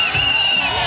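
A crowd of supporters cheers and whoops for a Garota Verão pageant candidate from Canguçu, a dense, loud burst of voices filling the brief moment.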